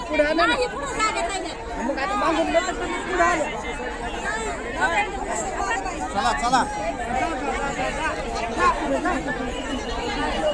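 A dense crowd of pilgrims chatters and calls out at a Sant Dnyaneshwar Maharaj samadhi procession in a jammed street, a close, continuous babble of many voices with a nearby voice speaking.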